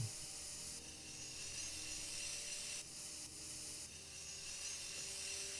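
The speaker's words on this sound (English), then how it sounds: "Let's cut these rocks, kid." A rock cutting station in Dinosaur Fossil Hunter grinds steadily through stone. The gritty, rasping drone is faint and even, with a couple of brief dips in intensity.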